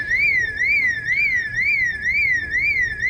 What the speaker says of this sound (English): That's a house alarm.